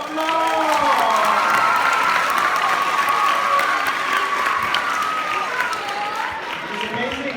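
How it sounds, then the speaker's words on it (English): A crowd claps and cheers for a participant at a live caricature artist show in Singapore, with dense sustained applause and excited voices shouting throughout. "Everyone give Ethan a round of applause!"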